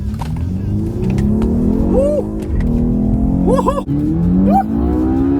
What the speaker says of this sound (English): We are on Sport Plus mode for a full-fledged drive, and let's see what this car has to offer.